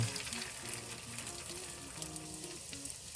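Hashbrown pancake batter fries in a pan, a dense continuous sizzle with a musical tone in the background.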